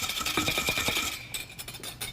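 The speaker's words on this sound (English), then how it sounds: "I like to just whisk that together real quick" Salt and sugar being whisked together quickly in a bowl, a fast close rhythmic clicking and scraping of the whisk that slows and breaks into a few scattered taps toward the end.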